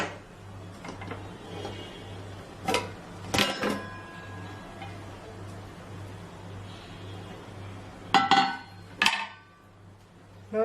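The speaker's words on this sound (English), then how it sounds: "Now I am going to open the cooker" A pressure cooker lid is opened after cooking a Kerala mixed-vegetable dish. Several sharp metallic clicks and clanks come in two clusters over a low steady kitchen hum.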